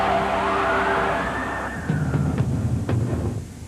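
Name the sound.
sirens of fire engines and police cars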